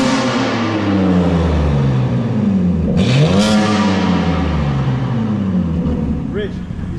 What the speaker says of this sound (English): All right, now rev. That'll put the burbles on.